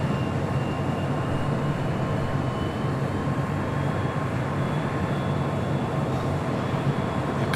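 A Korean Air Cargo Boeing 777 freighter arrives at LAX from Seoul, heard as a continuous broadband jet rumble and roar. It stays steady and moderately loud, with a faint high whine, and no talk is present.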